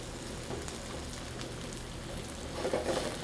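Onions sizzling in a very hot pan, a steady crackling hiss like light rain that swells a little louder toward the end, with no voices over it.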